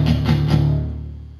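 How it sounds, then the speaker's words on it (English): Palm-muted electric guitar on the bottom three strings from a song: a few quick, tight, loud chugs that ring briefly and then decay. "So go ahead and palm mute the bottom 3 strings"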